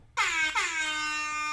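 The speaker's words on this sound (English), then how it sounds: "You get an air horn." An air horn gives a single loud, brassy blast that stutters once near the start and then holds steady to the end, alone with no talk over it.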